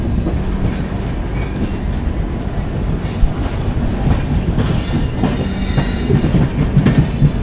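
The Dhauli SF Express rolls steadily out of Puri, heard from inside a coach with a constant loud rumble and rhythmic clickety-clack of wheels over rail joints, with no voices.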